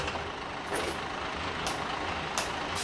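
A Volvo FH16 Classic truck in a truck-driving video game, on the Serra do Rio do Rastro mountain road. A steady engine rumble runs throughout, broken by three short, sharp hisses of air-brake release spaced about a second apart.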